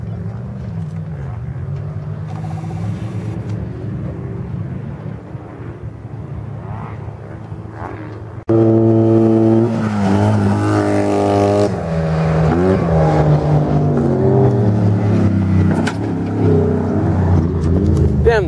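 An off-road vehicle's engine drones loudly at Prairie City OHV park. Halfway through it jumps to a harder, revving roar that rises and falls.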